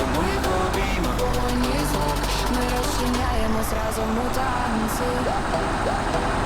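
Farm tractor engine from the Farming Simulator 19 game, running steadily at a low rumble while harrowing a ploughed field, with a continuous drone and a shift in engine pitch partway through, heard under talk.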